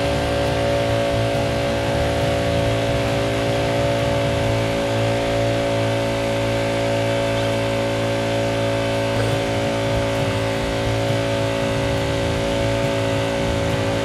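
A small 1-inch engine-driven water pump runs steadily while feeding a hose and spray nozzle, a loud continuous mechanical drone with a constant tonal whine and no pauses or speech.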